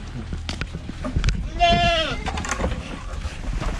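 On a small farm, a goat gives a single clear, wavering bleat amid ambient noise and nearby people talking.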